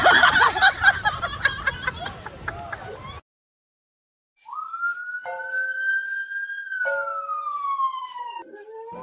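A person's voice imitates an ambulance siren with a long, loud wail that climbs and then holds, coming after a brief silence that follows giggling and chatter.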